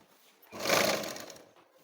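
A sewing machine runs one short burst while stitching fabric pieces together, rising out of quiet, peaking in a steady whir, then fading back to silence.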